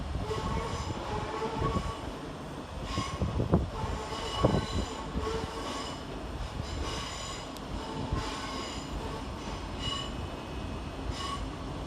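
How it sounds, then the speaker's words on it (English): Southern Railway class 377 electric unit 377318 pulls into Brighton station to terminate from Hove, brakes squealing and wheels clanking over joints amid the echoing station hum, with faint background voices. "Arriving to terminate with a Southern Railway service off Hove is 377-318."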